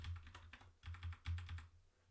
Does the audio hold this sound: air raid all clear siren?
no